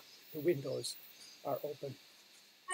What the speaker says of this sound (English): The noise you hear are the insect we call semi.